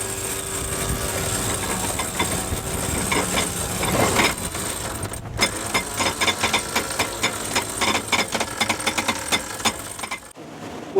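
Twin engines on a Leopard 48 catamaran run at around 1650 rpm, a steady mechanical drone with rattling, ticking transients over wind and water noise, one brief dropout midway and another near the end.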